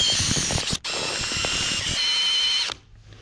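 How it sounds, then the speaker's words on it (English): A power drill spins an auger through lawn fertilizer, giving a loud, close, whining mechanical roar with gritty churning, a brief stop and restart, then cutting off near the end. "this auger makes mixing that substantially easier"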